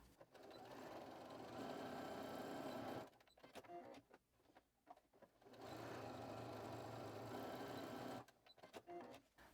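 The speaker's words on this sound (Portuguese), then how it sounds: "a gente vai costurar com um pé de máquina" A sewing machine runs two steady bursts of stitching through folded fabric, a close, even mechanical whir lasting a few seconds each, separated by quieter handling clicks.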